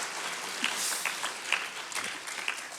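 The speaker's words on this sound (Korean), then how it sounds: "박수가 많네요." A church congregation at a Friday prayer meeting applauds steadily to encourage the workers, a dense wash of clapping with a few sharper claps standing out.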